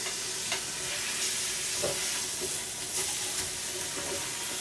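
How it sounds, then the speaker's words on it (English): Lamb mince frying in oil in a pan, with a steady close sizzle and occasional scraping clicks as it is stirred around. "Just going to move it around, turn the heat down a little bit."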